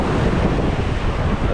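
Waves wash and splash over a wet fishing jetty in a steady, loud roar of surf and spray, with wind buffeting the microphone and no talk.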